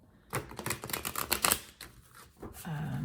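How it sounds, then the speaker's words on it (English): A deck of tarot cards is riffled in a quick burst of dense, crisp clicks, followed by a softer rustle as the cards settle. "I'm going to give a couple big girl shuffles and see what all this is about."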